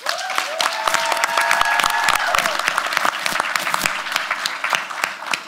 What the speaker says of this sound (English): Can we get a big round of applause for Vice President Agai Jones